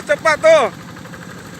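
A tractor engine chugs steadily at a distance while plowing a farm field. Someone speaks briefly over it at the start, and then the low engine rumble carries on alone.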